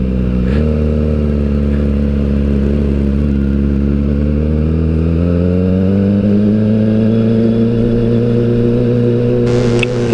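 A Kawasaki ZX-25R motorcycle on a ride toward Ubud in Bali, its exhaust loud and close with a steady droning engine note that climbs gradually in pitch as the bike accelerates.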